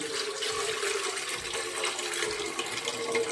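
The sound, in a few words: water poured into idli steamer pot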